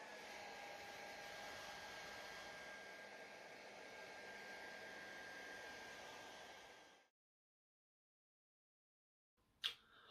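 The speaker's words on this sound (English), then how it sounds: "I'm just going to use my trusted hairdryer to try and speed up the process" A hair dryer blowing steadily to speed drying of superglue-fumed fingerprints, a constant soft whooshing rush that cuts off abruptly, followed by silence and a brief click.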